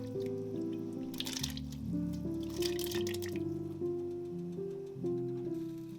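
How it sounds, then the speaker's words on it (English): Home-canned potatoes are poured from a jar into a pot of chicken bone broth, heard as two short, soft splashy pours over a steady tonal background that runs throughout. "To that, I am adding 1 jar of my home canned potatoes."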